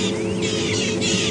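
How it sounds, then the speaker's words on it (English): Rattling cisticolas scold a side-striped jackal on a morning safari drive in Djuma Game Reserve, giving a quick run of harsh, rasping alarm chatters, close and fairly loud, in a short burst without speech. "You hear the birds shouting at him?"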